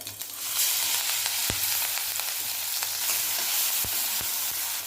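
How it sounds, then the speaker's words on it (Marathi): A spice paste with cumin and mustard seeds sizzles and fries in hot oil, a bright continuous crackle punctuated by sharp pops and occasional stirring clicks against the pan. "इथे तेल छान गरम झालेलं आहे आता जे वाटण तयार केले ना ते टाकून घेऊया"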